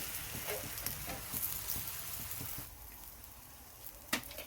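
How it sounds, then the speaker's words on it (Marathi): Puran poli laid on an oiled hot griddle gives a soft, steady sizzle with faint crackles, quiet and close, with no voices. "तव्यावर असं थोडंसं तेल मारायचं, त्याला असं उलटा करून पोळी तव्यावरती सोडायची"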